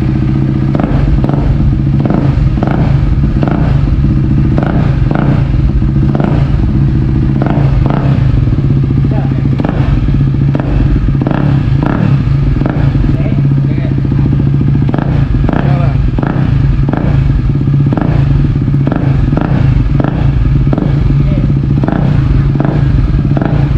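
A KTM Duke 250 motorcycle fitted with a loud aftermarket exhaust idles and revs in repeated sharp bursts, close and steady throughout, with people talking nearby.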